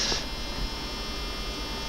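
Servo on a Walkera RC helicopter running with a steady, faint electric buzz and hum, with a brief louder whir at the start.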